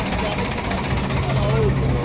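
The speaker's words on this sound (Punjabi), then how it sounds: "ਇਹ ਟਰੈਕਟਰ ਦੂਜਾ ਹੋਰ ਟਰੈਕਟਰ ਲੈ ਕੇ ਚੱਲਿਆ ਵਾ" A tractor pulling another tractor on the way to Sri Anandpur Sahib runs with a low, steady engine rumble and vibration close by, while people talk over it.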